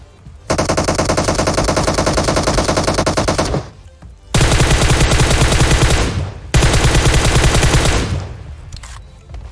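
Automatic gunfire in the mobile battle-royale game PUBG Mobile: three loud, sustained rapid-fire bursts with brief pauses between them, close and dominant with no talk.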